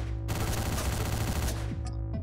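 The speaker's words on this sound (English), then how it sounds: "the guns in this game do feel quite good, they make pretty good sounds" Dense rapid gunfire from the top-down shooter Hotline Miami, a continuous rattling volley over a pulsing synth music track that keeps playing underneath, ending with a couple of separate shots.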